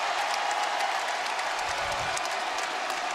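Arena crowd applauding Atlanta Hawks players after a playoff run, a steady wash of clapping and cheering throughout, with a faint low rumble partway through.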